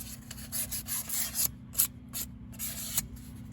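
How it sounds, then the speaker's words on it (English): Fine sandpaper rubbed by hand over a front wheel hub on an Infiniti M37/M56/Q70: rapid back-and-forth scratchy rasping strokes in uneven bursts, close and moderately loud, with brief gaps between passes. "what I usually do is get some sandpaper"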